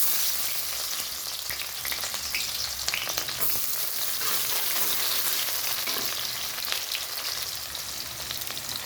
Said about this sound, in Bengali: কড়াইতে সরষের তেলটা গরম হয়ে গেছে, তো এখানে দিয়ে দিচ্ছি পেঁয়াজ,